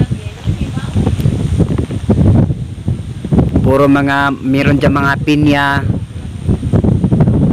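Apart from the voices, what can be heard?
strong wind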